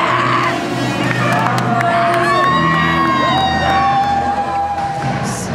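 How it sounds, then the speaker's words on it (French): A large crowd cheers, whoops and shouts as a basketball team wins the match that seals promotion to Ligue 2. The roar is loud and continuous, with high children's yells and a few voices standing out. "Les cris de joie et les larmes concluent cette incroyable saison."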